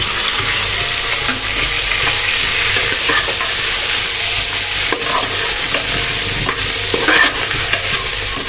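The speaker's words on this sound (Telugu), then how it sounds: "సన్నగా తరిగి పెట్టిన మనం పుదీనా, కొత్తిమీర రెండు వేసుకొని బాగా కలిపెట్టుకోవాలి" Chopped mint and coriander get stirred into Hyderabadi chicken haleem in a hot pan, a loud and continuous sizzle with scraping strokes close by and no talking.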